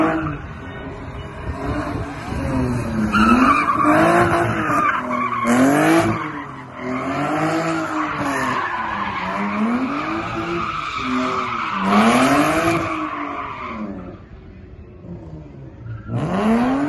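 A modified, stripped-down BMW drifts through tight turns, its engine rising and falling in repeated revving sweeps while the tires squeal loudly and continuously, close to the listener.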